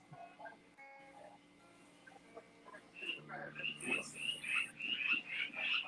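Frogs croak in chorus outdoors, a rising run of repeated high chirping calls building in the second half, quiet and moderately distant, with low talk and faint clucking bird sounds mixed in.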